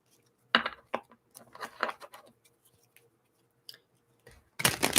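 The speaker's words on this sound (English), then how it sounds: "Let's do a couple more shuffles here for Petra." A brand-new tarot card deck being shuffled, giving a series of brisk papery riffles and soft flutters in short bursts, with a longer loud riffle at the end and quiet gaps in between.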